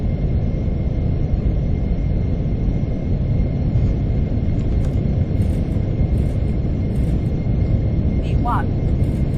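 Airliner jet engines spool up to takeoff thrust in a flight simulator, a loud, steady low rumble and roar that holds without a break, with brief clicks and faint cockpit sounds on top.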